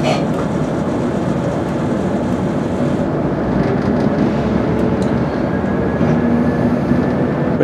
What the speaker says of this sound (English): We're now departing Driftfield.